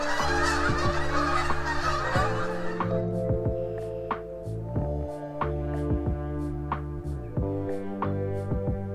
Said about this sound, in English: It's nice to hear the old familiar sound of huge groups of geese returning to our